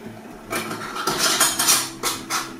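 A glass preserving jar with a rubber-sealed lid is handled during home canning of stuffed green cabbage, giving a few bright clinks and scrapes of glass and metal up close, with no talking.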